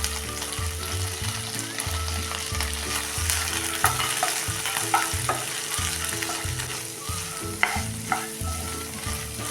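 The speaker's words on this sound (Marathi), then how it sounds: "त्यामध्ये आता हे कॉर्न टाकून परतून घेऊया" Corn kernels sauté in melted butter in a pan with a lively close sizzle and repeated spoon scrapes and stirs, while a low rhythmic hum runs underneath and nobody speaks.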